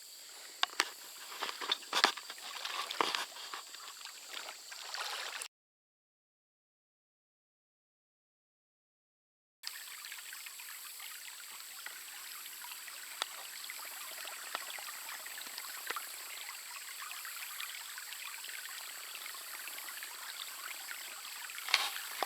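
A small Missouri creek flows with a soft, steady trickling and babbling wash, faint and continuous outdoors, with a few brief clicks and knocks early on and no voices.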